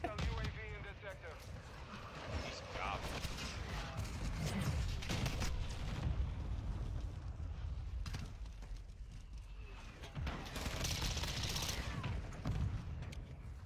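Repeated flashbang grenade blasts in Call of Duty Modern Warfare 2 multiplayer, dense bursts of booms and gunfire crowding a continuous loud battle mix with talk over it.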